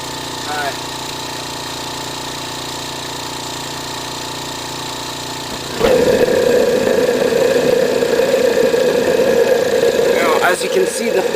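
A homemade propane-fuelled jet engine lights and runs, its steady loud roar starting partway through after a quieter hiss and continuing close by to the end, with a brief voice early on.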